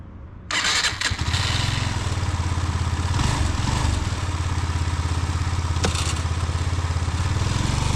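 Benelli TNT motorcycle engine fires up and settles into a steady, loud, throbbing idle and rev, close by, with a few clattering mechanical knocks along the way.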